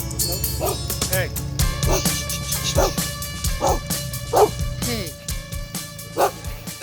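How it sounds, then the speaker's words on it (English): A dog barks repeatedly at an airplane at Ranger Creek Airport in sharp, spaced yips and woofs, close and loud, over a steady aircraft engine hum with a person speaking now and then. "Bark away at the airplane."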